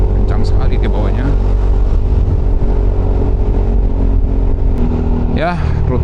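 A Honda Forza scooter overtakes a Toyota Fortuner SUV on a touring ride toward Lembang, with a loud, steady roar of wind and engine that holds throughout and a brief tonal wail near the end.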